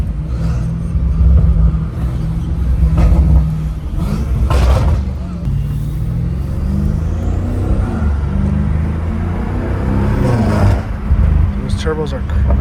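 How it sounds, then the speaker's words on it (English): A turbocharged 617 hp BMW M5 Competition rumbles deeply from inside the car, with a faint turbo whoosh rising through the middle as people talk over it. "yo, these freaking turbos are crazy."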